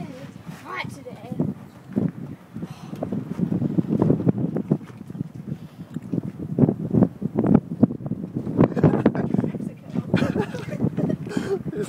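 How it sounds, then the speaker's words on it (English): Strong wind in a snowy blizzard buffets the microphone with heavy low rumbling gusts that swell and fade, loud and close, while people talk over it. "It's so windy, oh my god."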